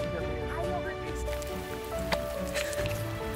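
Steady rain falls on the Akiki Trail on Mt. Pulag, a constant soft patter and hiss beneath faint tonal background music.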